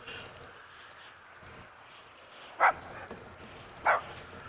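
Two short, sharp dog barks about a second apart in the video game Grand Theft Auto V, heard over a low steady game background.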